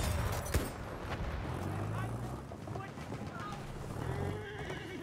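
Horse neighing and galloping hooves in Battlefield 1 multiplayer amid a busy mix of noise, with voices talking over it.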